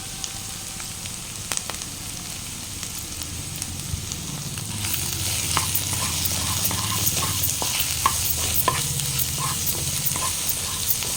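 Ivy gourd fries in a pan with ginger paste and turmeric, a dense close sizzle that grows louder midway, with repeated clicks and scrapes of stirring throughout.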